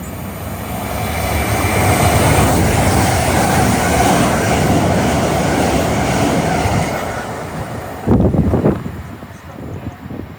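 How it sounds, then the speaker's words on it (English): A Great Western Main Line train roars through Burnham station at speed without stopping, a loud sustained rumble and wind rush that cuts off abruptly, followed by a brief clatter as the last carriages pass. "the approaching train does not stop here"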